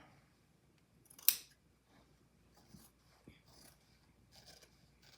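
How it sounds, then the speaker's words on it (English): A single crisp snip of scissors cutting along a seam across the back yoke of a garment, brief and close, followed by quiet rustling of cloth. "we're just going to cut right along the seam across the back yoke"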